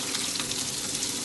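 Garlic frying in hot oil for an egg masala, a close, dense crackling sizzle holding steady and fairly quiet with no voices.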